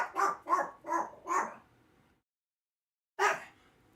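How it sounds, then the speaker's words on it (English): A pet dog barks four times in a quick, fairly loud run, falls silent for over a second, then lets out one more bark, with no talk over it. "Whenever I'm on the phone with someone, he barks crazy."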